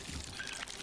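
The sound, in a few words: water pouring from a canteen in video game Icarus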